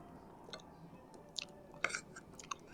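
Close, quiet chewing of a large piece of braised pork leg, with a few soft crunchy bites scattered across a few seconds and no talking.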